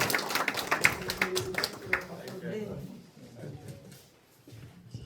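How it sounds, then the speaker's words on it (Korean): An audience at a committee launch ceremony claps in a burst of applause that gradually thins out and fades over several seconds. "큰 박수 부탁드리겠습니다"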